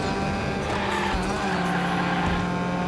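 McLaren Senna engine in the racing video game Hot Wheels Unleashed, a continuous loud synthetic engine drone with shifting pitch and a brief tire-squeal edge, steady throughout with no talk.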